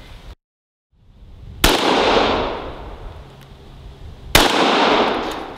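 Two loud pistol shots from a Smith & Wesson M&P Pro Series C.O.R.E. fired at a range, sharp cracks about 2.7 seconds apart, each followed by a long rolling echo decay.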